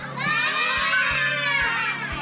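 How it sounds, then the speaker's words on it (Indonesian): Crowd of children cheering and shouting excitedly during acrobatics practice in a narrow alley, a loud continuous wash of young voices with a few low thumps underneath. "Sorak gembira jika yang dilakukan berhasil ataupun gagal."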